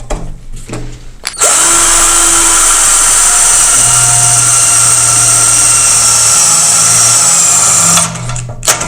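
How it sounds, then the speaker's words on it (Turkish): A power drill bores a 7 mm hole with a Bosch V-Line bit, a loud, steady high whine that runs for about seven seconds, shifts pitch slightly under load, then stops abruptly, with brief handling noises before and after. "Şimdi bir de en büyük uç olan 7 mm deliyoruz."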